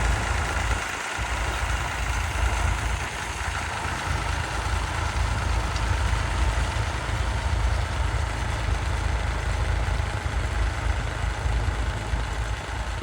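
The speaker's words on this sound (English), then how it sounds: "So we got a nice Massey Ferguson here. Nice little 3-cylinder." A Massey Ferguson three-cylinder tractor runs at a ploughing match, its engine giving a steady, close, rumbling drone that stays even throughout with no speech over it.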